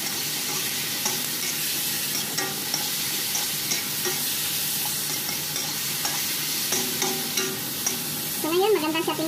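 Beef and onion frying in a pan for a simple home-cooked dish, a steady loud sizzle running throughout with occasional stirring clatter and a few brief scraping sounds near the end.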